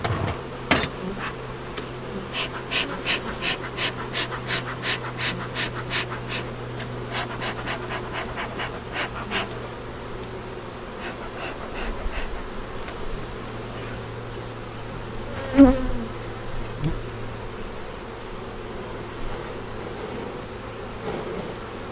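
Honeybees buzz in an open beehive, a steady low drone running throughout beneath a series of rhythmic close clicks and taps, with a louder knock partway through.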